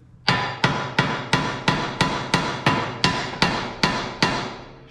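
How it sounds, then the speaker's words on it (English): A hammer strikes a metal car suspension part on a Honda Civic EK about a dozen times in an even, steady rhythm, each sharp ringing blow close and loud, with no talking. "Best way is to tap with a hammer just on the side here."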